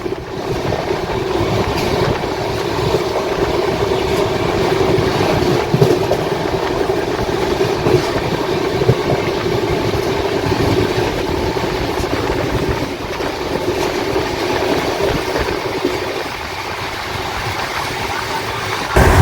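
A Kolkata to Amritsar express train, number 12357, runs at speed, heard from inside as a loud continuous rumble with rhythmic rattling and wheel clatter throughout. No one speaks.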